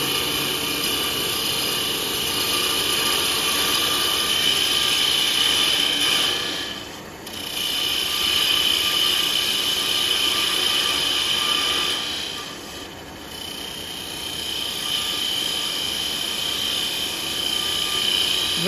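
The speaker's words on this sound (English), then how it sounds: "I just use my roughing out gouge to do a planing cut" A wood lathe spinning a small top blank while a roughing gouge makes a planing cut, giving a steady close mechanical whir and scraping hiss that dips twice when the tool lifts off.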